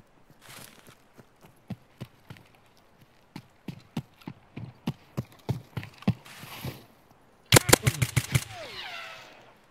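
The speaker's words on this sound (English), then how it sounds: "if you listen closely, there was two pair of footsteps" Footsteps approach in the shooter game Escape from Tarkov, a series of sharp, evenly spaced thuds from two people walking. A loud burst of rapid gunfire follows, then a ringing, fading tail.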